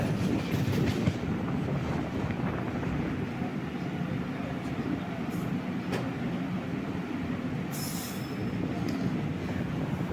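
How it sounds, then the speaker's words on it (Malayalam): The crowded Island Express train bound for Bangalore runs with a loud, steady rumble of wheels on track, brief squeals and clatter, and faint voices in the carriage. "പന്ത്രണ്ട് മുപ്പത്തി അഞ്ചിന് വന്ന ട്രെയിൻ ചെറിയൊരു ഇടിയൊക്കെ കഴിഞ്ഞ് തള്ളൊക്കെ കഴിഞ്ഞ് പന്ത്രണ്ട് നാൽപ്പതിനായപ്പോഴത്തേക്ക് എടുത്തിട്ടുണ്ട്"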